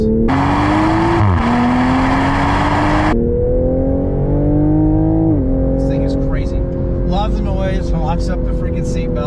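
A 2022 Toyota GR Supra accelerates hard through the gears. The engine drone climbs in pitch, drops at each upshift with a small pop between shifts, and is heard from inside the car while people talk over it.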